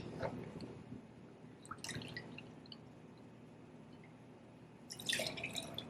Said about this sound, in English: some apple cider vinegar